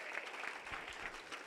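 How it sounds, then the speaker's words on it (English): A church congregation applauds after a prayer, a steady, dense wash of many hands clapping together at moderate level throughout, with some voices mixed in. "Please clap for Jesus"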